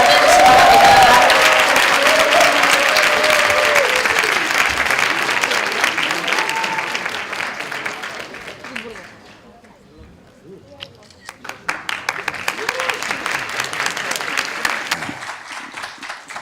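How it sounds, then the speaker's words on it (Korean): Loud, sustained audience applause welcoming a party leader at a university student leadership lecture in Busan, the clapping swelling, dipping briefly near the middle, then rising again. "모두 큰 박수로 홍준표 자유한국당 대표님을 맞이해주시기 바랍니다."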